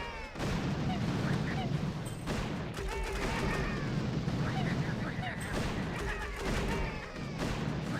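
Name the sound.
artillery shots from the video game Boom Beach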